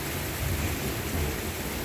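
A thunderstorm in Boynton Beach, Florida, fills the scene with a dense, steady roar of rain and low, rolling thunder rumble at full loudness throughout, with no voices.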